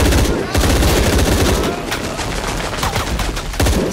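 Loud rapid bursts of automatic gunfire in the video game Shadow of the Tomb Raider, rattling almost without pause, with a few heavier shots mixed in and voices underneath.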